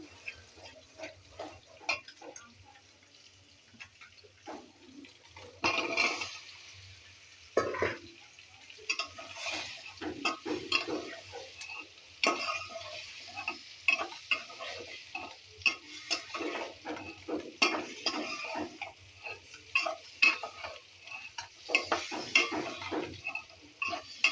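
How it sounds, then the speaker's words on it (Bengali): Tilapia fries in oil in a pan. A soft sizzle sits under irregular clinks and scrapes of a utensil against the pan, close but fairly quiet, with no one talking. "মাছ ভাজি চলছে"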